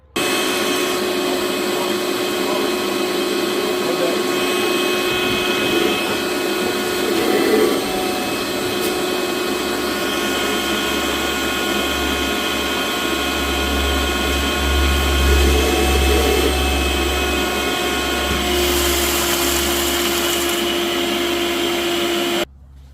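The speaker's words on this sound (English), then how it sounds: "So we gotta vacuum it very thoroughly." A vacuum cleaner clears broken glass from the rear driver-side door of a 2008-2015 Toyota Venza, running as a continuous close whine for the whole stretch, with occasional shifts as the nozzle moves and rattles.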